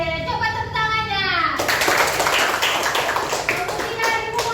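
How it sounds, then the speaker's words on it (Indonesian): A class of children claps hands together in a burst of rapid, uneven patting that follows a teacher's spoken request and runs to the end, close and fairly loud. "Coba tepuk tangannya."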